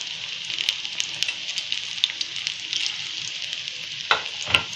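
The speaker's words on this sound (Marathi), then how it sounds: "आता भाजून घेते चांगले दोन्ही साईडनं" Small spinach pakodas frying in oil, a dense continuous crackling sizzle close up with scattered pops, and a couple of louder clatters near the end, no talking.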